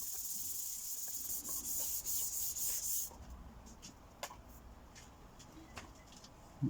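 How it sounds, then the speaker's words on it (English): Soft, steady scratchy rubbing as sandpaper gently sands primer on an aluminium motorcycle side panel for about three seconds, then sparse light scrapes and taps in a quiet room. "Just a very gentle sand,"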